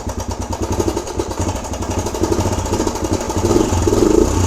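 DRZ 125 motorcycle engine idling with a rapid, steady mechanical ticking and clatter from the valves or cam chain, loud and close, with no talk over it.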